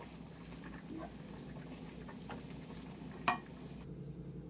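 Amaranth leaves frying in a pan after chili powder and coriander powder are stirred in, a faint steady sizzle with soft stirring scrapes and one sharp utensil clink near the end.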